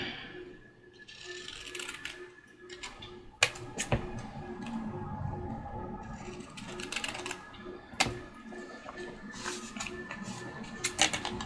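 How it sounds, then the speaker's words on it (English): Scissors cut roughly through paper during a paperclip craft project, with a busy run of crisp snips and rustles. A few sharper, louder cuts stand out, all close by. "I'm just going to cut around her in rough fashion and call it good."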